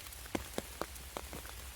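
Rain falls in October woods during a mushroom-foraging outing: a soft, steady hiss with scattered drops tapping on leaves nearby, quiet and without talk.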